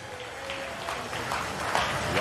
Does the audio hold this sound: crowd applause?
yes